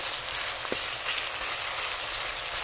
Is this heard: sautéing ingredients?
yes